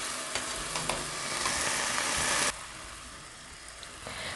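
Oxtail and marinade cooking in a pot give a close, steady sizzling hiss that swells, then drops suddenly to a quieter simmer partway through.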